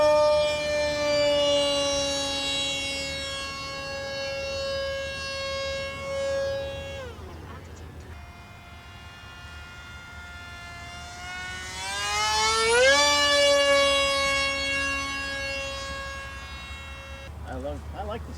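Hobbyzone AeroScout S2 RC plane with a Scimitar propeller flying at speed, a loud sustained whining buzz that dips in pitch as it passes, then climbs and falls again, steady and fairly near throughout.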